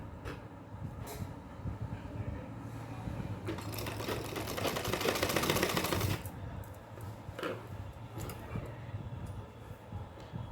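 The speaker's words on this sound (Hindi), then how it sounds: "अब इसके बराबर में ही यहाँ रखकर फिर इसे सिल लेंगे।" A sewing machine stitches a small dress in a rapid mechanical clatter that speeds up into a denser whir midway, then slows into intermittent runs with short pauses.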